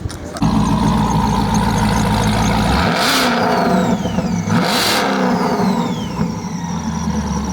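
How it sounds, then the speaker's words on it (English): A supercharged GMC Sierra pickup engine idles, then is revved hard twice, each blip bringing a rising, whistling supercharger whine over the loud, close exhaust roar before it settles back. "right now we're fixing to hear this supercharger one. Yeah, let's hear it. You're going to like the way this whines."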